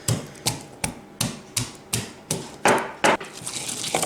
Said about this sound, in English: I'm gonna grind my half of garlic.